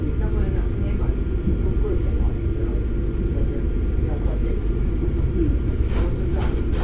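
A train on Auckland's Southern Line rumbles steadily from inside the carriage, a continuous low, close drone with faint rattles, and an onboard announcement speaks over it.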